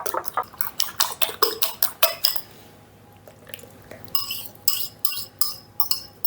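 Four eggs whisked in a bowl for banana muffin batter: quick rhythmic clinks of metal against the bowl in two bursts separated by a short pause, close and clear with no talking.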